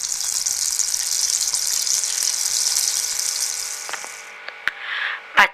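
Mustard seeds, urad dal, curry leaves and chillies temper in hot oil with a bright, hissing sizzle for about four seconds. A few clicks and clatters follow, then a brief louder scrape.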